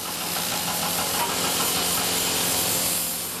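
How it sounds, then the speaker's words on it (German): Roadworks on a Berlin street, with jackhammers and excavators laying new gas pipes, water lines and tram tracks, make a loud, continuous dense clatter and engine rumble with no speech. "Seit 2 Jahren Presslufthämmer und Bagger."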